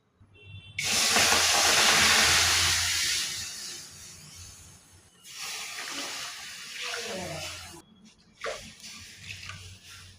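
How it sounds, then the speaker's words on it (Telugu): Water in a pot on the stove heats toward a boil for Maggi noodles, giving a loud, steady hiss with bubbling and sizzling that dips and surges and briefly cuts out near the end. "ఇవి బాగా మరగాలి"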